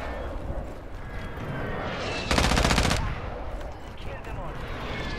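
A new weapon in a video game fires a loud, rapid burst of automatic gunfire lasting under a second, standing out over steady game ambience and fainter gunshots before and after.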